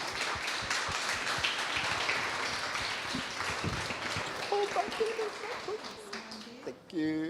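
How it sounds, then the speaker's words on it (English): An audience claps for guest speakers Sandhya Singh and Raksha Mahabeer at a business branding event, a moderate, fairly distant patter of hands that thins out toward the end. "Please, a round of applause for them, and may we stand."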